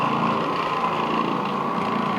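An Oreck Orbiter floor machine scrubs a badly worn, stained carpet, its motor droning loudly and continuously with a low rapid rumble close by.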